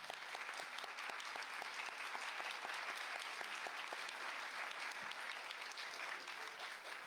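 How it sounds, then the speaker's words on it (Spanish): Audience applause at a conference panel discussion, steady dense clapping from a crowd that carries on at an even level throughout, with no talk over it. "les pido para ellas un gran aplauso"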